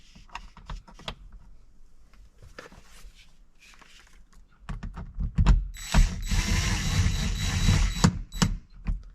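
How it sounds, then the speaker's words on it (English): A screw being driven into the sheet-metal sun visor bracket of a 2017-2023 Chrysler Pacifica: scattered ratcheting clicks and handling knocks, then a louder stretch of rapid mechanical clicking and grinding from the tool, close up and without talk. "Then we can put our screw in."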